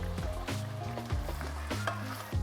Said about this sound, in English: Now it's time to add our onions. I'm gonna cook that for a couple minutes just to soften real quickly.